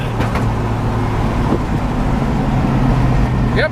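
A 1965 Ford Mustang Hertz tribute with a C4 automatic transmission driving, a steady low engine and road drone heard from inside, constant and unbroken with a faint click at the end.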